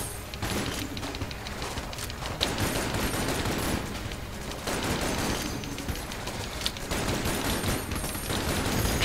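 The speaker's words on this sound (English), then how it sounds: "Just trying to avoid these bullets. They're everywhere." Rapid video-game gunfire crackles in dense bursts with short lulls, a steady stream of shots and bullet impacts at moderate loudness, with no talking.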